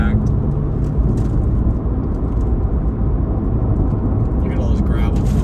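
A Chevrolet Corvette C8 Z06 climbs a gravel-strewn mountain road, heard from inside as a loud, continuous low engine and road rumble that stays steady throughout.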